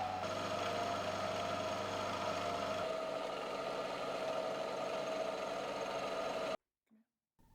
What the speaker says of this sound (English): And here in the mill I'm edge milling the new plate to size.